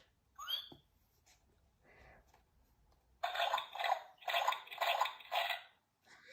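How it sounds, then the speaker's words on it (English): Cartoon pigs jump and splash in muddy puddles, with a burst of four or five loud, wet splashes in quick succession after softer squeaks and breathy sounds. "Everyone is having a wonderful, noisy time jumping and splashing."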